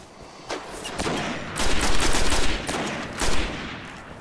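Gunfire in the video game Destiny rattles in loud, rapid bursts, a dense volley of shots swelling and fading over a few seconds, close and dominant with no talking.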